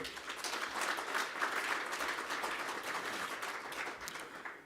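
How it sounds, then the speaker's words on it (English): A conference audience at a biomass industry event applauds its panelists, a steady, soft wash of clapping heard from some distance and sustained throughout. "A round of applause for our panelists"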